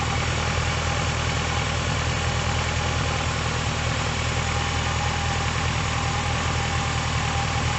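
Car engine running at a steady, slightly raised idle during an alternator test, a constant close-up hum with a dense low vibration and no talking over it.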